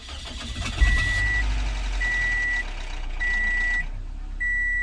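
A 2005 Toyota engine cranks and starts just after an oil change, running with a loud, steady mechanical rattle while a repeating electronic beep sounds in evenly spaced bursts.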